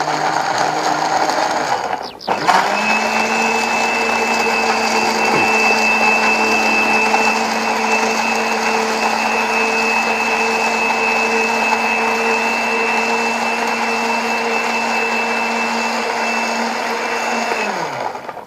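A kitchen blender whirs steadily for a long stretch as it blends hard carrots, starting with a brief clunk and then running at a constant loud, high-pitched drone before spinning down at the end.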